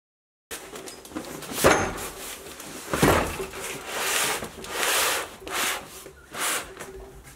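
A heavy metalworking dividing head lifted out of its packaging, with loud cardboard and packing material scraping and rubbing in repeated surges, some sharper knocks, close to the microphone and no talk.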